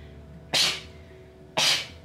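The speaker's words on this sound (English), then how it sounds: "I'm gonna sneeze." Two sharp sneezes about a second apart, close and loud, each a bright explosive burst fading quickly.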